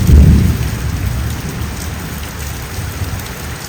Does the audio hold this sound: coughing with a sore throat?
no